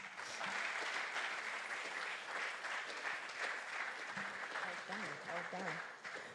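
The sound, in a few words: audience applauding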